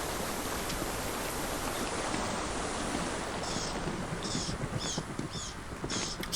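Rushing river water in the video game Metal Gear Solid 3, a loud, steady broadband wash that stays constant throughout, with faint higher chirps near the end.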